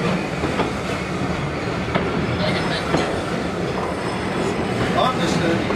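A steam locomotive at the Mid Hants Railway spring steam gala gives a loud, steady rumble with a faint rhythmic clatter that carries on without a break.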